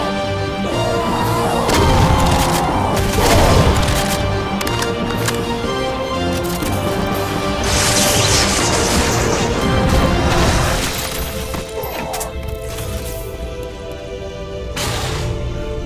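Loud, constant gunfire roars in Final DOOM played with the Project Brutality mod. Rapid shots blend with crashing impacts and explosions in a dense, unbroken barrage with no pauses.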